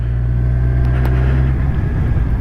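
A 2017 Kawasaki Z1000 motorcycle engine drones steadily while cruising in fifth gear, a loud close low rumble with wind noise and a slight shift in pitch partway through.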